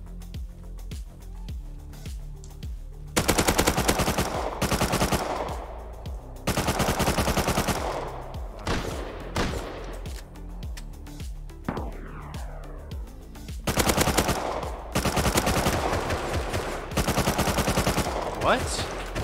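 Video game gunfire crackles in loud, close automatic bursts separated by short pauses, with rapid strings of shots repeating through the stretch.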